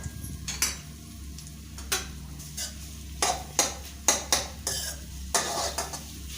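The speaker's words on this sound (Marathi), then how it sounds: "थोडा वेळ भाजून घ्यायचे, 5-10 मिनिटं." Fenugreek roasting in ghee in a pan, with a spoon scraping and stirring in repeated short strokes over a faint, quiet sizzle, close by and without talk.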